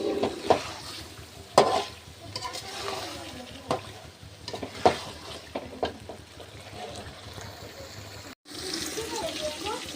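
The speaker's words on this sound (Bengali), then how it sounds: "কড়াইতে গোশ দিয়ে দিয়েছি এই যে কষিয়ে নিচ্ছি" Meat being browned and stirred in an oil-filled wok, giving a steady sizzle broken by scraping strokes of a spatula, with a person's voice heard over it.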